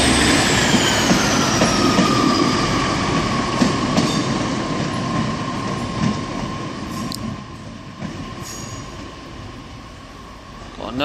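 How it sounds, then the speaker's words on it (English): A train rolls through Exeter St David's station on the Great Western Main Line in the evening, a steady loud rumble of wheels and carriages with clattering and a faint squeal throughout, easing slightly toward the end. "Got another train coming down the line."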